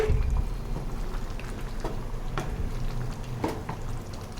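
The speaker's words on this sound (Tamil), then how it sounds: "நல்லா கொதிச்சுட்டு இருக்கு" Steady bubbling and popping of a thick chickpea curry (channa masala gravy) simmering in a pan, close by, with a continuous low rumble underneath.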